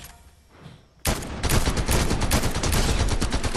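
Gunfire in a video game while a boar is being shot: after a quiet opening, a sudden dense volley of rapid shots erupts and keeps going loud and continuous.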